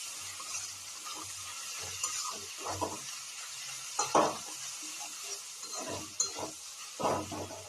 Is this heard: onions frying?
yes